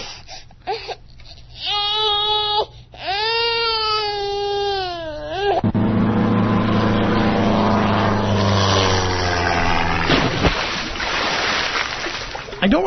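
A propeller airplane drone plays loud and steady through a radio broadcast, following a high wailing, crying-like sound and passing near, filling the clip with engine roar and no talk over it.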